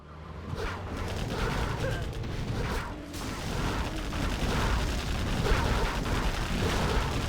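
Rapid unit gunfire crackles continuously through a real-time strategy game battle, a dense steady stream of shots and mechanical noise lasting throughout at moderate loudness.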